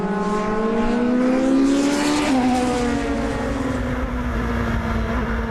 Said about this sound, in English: Rademacher now battling with Henk Hane in the Tartus.